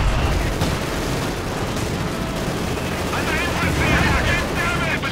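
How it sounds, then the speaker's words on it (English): Dense artillery shelling and rapid gunfire from a Company of Heroes 2 match: a steady, loud wall of overlapping bursts and booms that runs unbroken, with a commentator's voice underneath. "Artillery coming in as well, it would seem."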